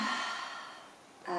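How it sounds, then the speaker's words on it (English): A deep audible breath during a children's yoga session, a breathy exhale that fades out and then a fresh intake at the end, close and alone without talk. "Take a deep breath in."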